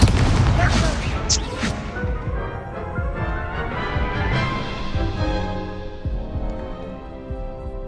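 Spell blasts and booming impacts from a Hogwarts Legacy battle, several bursts early with a rumbling low-end wash continuing throughout, loud and dense, with voices shouting spell incantations over the fighting.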